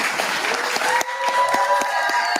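A crowd claps and cheers at a Trump speech, a dense wash of applause with sharp individual claps standing out and a faint tonal voice or whistle running through it.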